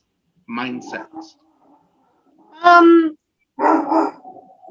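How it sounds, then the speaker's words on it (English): A pet dog gives a few sharp yips and whining barks in short bursts, close and loud indoors, with pauses between. "I'm sorry, my dog is just bark."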